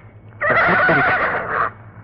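A horse neighs in a radio drama sound effect, one loud, close whinny lasting just over a second that rises and then trails off, heard on its own.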